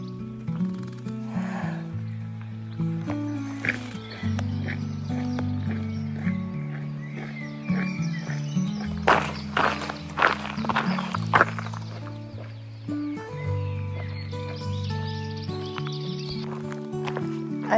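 Horses neigh and whinny repeatedly in the morning on the walking route from Deba to Markina, with hooves clip-clopping nearby, busy and fairly loud throughout with no talking.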